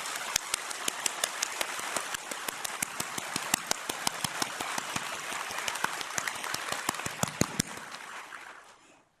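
An audience at a Unification Church address applauds Reverend Sun Myung Moon, sharp individual claps standing out over a dense rain-like wash of clapping before it quickly fades out at the end.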